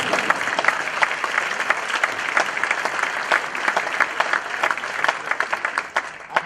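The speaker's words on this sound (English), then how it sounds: "You can clap at that." Steady applause from an audience at a county government address, many hands clapping at once for several seconds before it begins to thin out.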